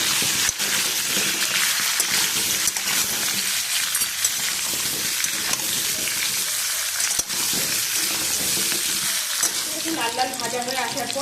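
Potatoes sizzle and crackle steadily in hot oil for an alu dum dish, with seasoning added, and occasional scrapes and stirs of a spatula run through the continuous frying hiss.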